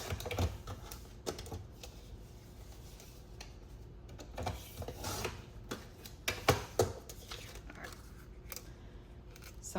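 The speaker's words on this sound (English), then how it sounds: "I'm going to trim this piece down so that I can get it through the machine" Quiet, irregular snips and small ticking cuts as a card panel is trimmed down by hand, scattered light clicks with soft handling noise in between.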